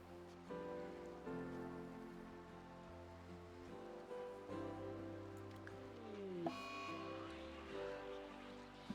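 Rain falls in the RimWorld colony-building video game as a soft, steady hiss beneath tonal in-game music that continues throughout.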